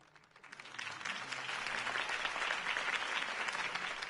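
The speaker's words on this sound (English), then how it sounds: "could have heard that applause" A crowd in the video game Batman: The Telltale Series breaks into applause after a campaign speech, swelling within the first second and continuing steadily, dense and sustained, with no one speaking.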